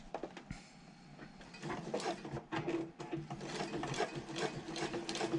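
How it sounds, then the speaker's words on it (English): Sewing machine topstitching along a handbag pocket edge, a steady mechanical whirr of needle and gears running continuously at close range with small clicks of the mechanism. "I'm just going to start from this corner and stitch close to the edge"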